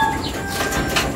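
Pigeons in a loft flap their wings nearby in a quick flurry of soft whooshing beats, a brief burst of feathered flutter with no voices.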